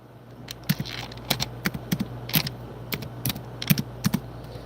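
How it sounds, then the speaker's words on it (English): Typing on a computer keyboard in a chat, with irregular bursts of sharp key clicks over a steady low hum, close and fairly quiet, with no voices. "I'm typing in his chat now."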